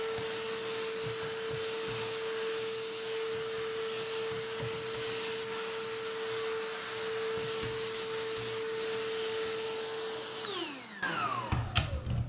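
A Black+Decker Dustbuster AdvancedClean cordless handheld vacuum whines at a steady, close pitch for about ten seconds, then winds down as the motor switches off, followed by a few handling clicks.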